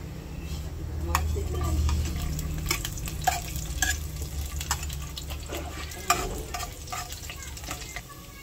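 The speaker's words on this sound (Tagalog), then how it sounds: "At ako po'y magluluto na, akin na pong igigisa. Ilalagay ko na po yung bawang." Garlic sautéing in a hot pan, a close crackling sizzle with repeated sharp utensil scrapes and taps while it is stirred, over a low background rumble.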